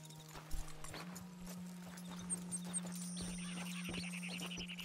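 Horse hooves clip-clopping at a steady walking rhythm in the Red Dead Redemption 2 video game, close and distinct, with a soft whinny and a faint sustained tone in the background.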